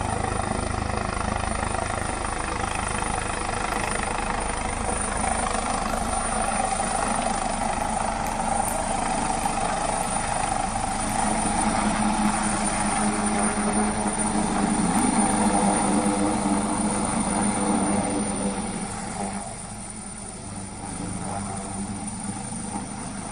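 A helicopter lands at an election rally in Maharashtra, a loud continuous rotor and turbine roar holding steady throughout before easing off slightly toward the end.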